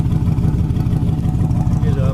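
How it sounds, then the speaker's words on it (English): A 1958 Ford F100 pickup with dual exhaust exiting ahead of the rear wheels, idling in a deep, steady, throbbing rumble, close and loud throughout. "Dual exhaust comes out right in front of the rear wheels, has a nice mean sound to it."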